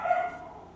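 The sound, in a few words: puppy barking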